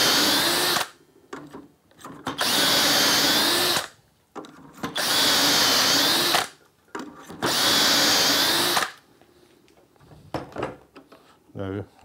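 A power drill bores dowel holes into wood through a Dowelmax doweling jig in three long, loud bursts, each a steady high whine, separated by short pauses with light handling clatter and a brief clunk at the end.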